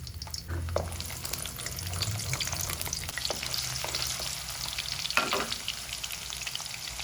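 Mustard seeds and onion sizzle in hot oil for a bisibele bath tempering, a steady close frying hiss with occasional stirring and a few brief louder bursts.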